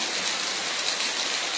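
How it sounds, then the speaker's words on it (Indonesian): Heavy rain pours down in Pangandaran, West Java, a dense, unbroken hiss of falling water that stays loud and even throughout, with no voices. "Dan ini hampir merata tentunya di beberapa kecamatan di Kabupaten Pangandaran juga guyur hujan yang cukup deras ya."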